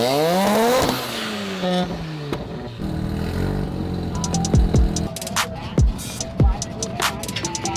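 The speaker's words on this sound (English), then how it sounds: "the rotary engine has just enough torque to do this" A Corvette fitted with a rotary engine pulls away in a tall first gear at an LS event, the engine note rising loudly and then dropping off into rattles, scrapes and sharp knocks as it passes close by.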